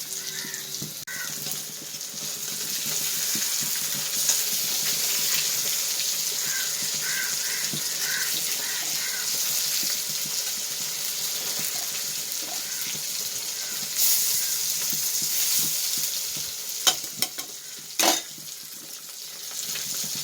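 Pieces of Ayila fish fry in a pan with an even, close hiss that holds for the whole stretch, with a few faint bird calls and small clinks in the background and no talking.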